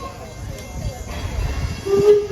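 An excursion passenger train with coaches and parlor cars rolls along, a steady low rumble and rattle that swells near the end as a brief high squeal rings out.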